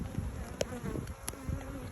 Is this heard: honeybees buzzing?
yes